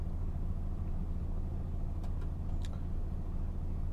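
Low, steady rumble of idling car engines and traffic at gridlocked motorway services, with a few faint higher squeaks briefly breaking through.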